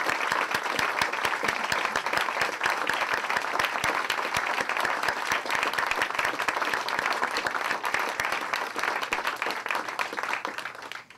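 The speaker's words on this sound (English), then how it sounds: "Please join me in a final round of applause for our writers." An audience at a live community stories writing workshop applauds the writers: dense, steady clapping from many hands in a room, sustained for about ten seconds before thinning out at the end.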